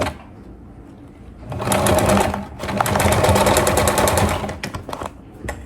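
Sewing machine stitching the seam end of a clear crystal plastic backpack: a quiet start, then two close bursts of rapid mechanical stitching separated by a short pause, tapering into scattered clicks.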